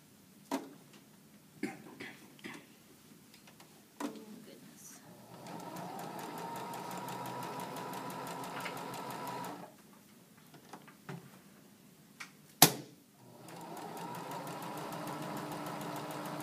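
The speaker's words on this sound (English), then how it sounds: "we're gonna sew 1/8 of an inch all the way around the line to just reinforce it before we cut it open" A sewing machine stitches around a cuff line in two steady, rapid runs of whirring mechanical ticking, separated and framed by quiet pauses with soft handling clicks and thuds.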